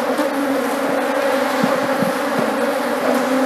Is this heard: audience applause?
no